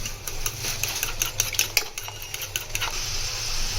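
Spoon stirring coriander powder, turmeric and black pepper masala into yogurt for tawa beef champ, a steady close scraping and swishing with soft clinks against the bowl, no talking.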